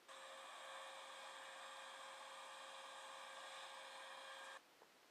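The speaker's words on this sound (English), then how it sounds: "Vacuum." Vacuum cleaner running from a relaxation sound app: a loud, steady high-pitched whine with a droning tone held for several seconds, then cutting off abruptly near the end, with no speech.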